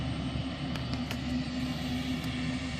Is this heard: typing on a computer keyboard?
no